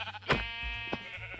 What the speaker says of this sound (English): Now, let's try a sheep.